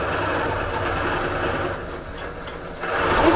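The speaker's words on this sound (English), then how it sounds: "I'm now going to sew down this far side." Longarm quilting machine sewing binding onto a quilt held on the frame, a continuous close mechanical hum with rapid needle ticking that dips briefly and then swells louder again.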